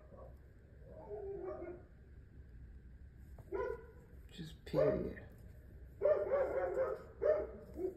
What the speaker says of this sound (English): You hear them dogs?